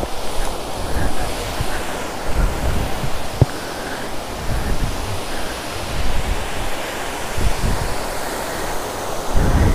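Ananthagiri waterfall in Araku Valley roaring with a steady, loud rush of falling water, dense broadband noise with wind buffeting the microphone.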